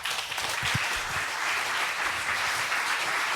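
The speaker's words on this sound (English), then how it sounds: "Please have a round of applause for PC Wiz." An audience at a tech conference applauds a speaker with steady, sustained clapping throughout and no talking.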